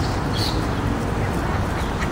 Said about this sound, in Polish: Tu jest bajorko z kaczkami.